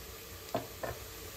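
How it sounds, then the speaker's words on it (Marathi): Garlic paste stirred into browned onions in a pressure cooker, with a low sizzle underneath and two short scraping stirs close by, no talking. "मिक्स करून घेऊया। 2 मिनिटं आपण याला छान परतूया।"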